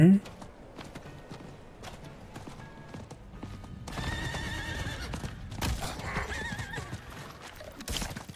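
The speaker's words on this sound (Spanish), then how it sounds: "Te pongo mi caballito" Horse mount in the video game Diablo 4 neighing and clip-clopping, with a short whinny at the start and later louder hoof steps and game effects, while someone talks over it.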